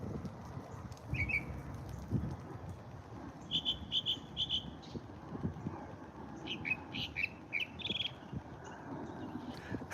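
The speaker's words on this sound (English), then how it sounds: "right now, I am in an amazing place with birds chirping." Small birds chirp in short bursts, some quick repeated notes, a little distant over a soft outdoor background hum; no one speaks.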